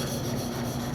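A steel chisel back is rubbed flat on an oil stone, making a soft, continuous scraping rasp with even strokes, quiet and close, with no talking.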